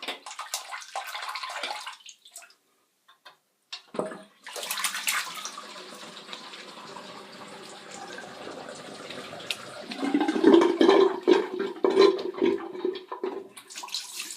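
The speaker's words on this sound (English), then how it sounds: "Sorry about the gurgling, wasn't me." Water gurgles and rushes from a bathroom tap or drain during a wet shave, a steady close wash that swells louder and bubblier near the end.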